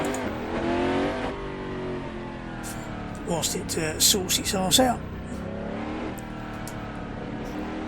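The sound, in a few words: revving engine of Mercedes-Benz CLR race car in Assetto Corsa video game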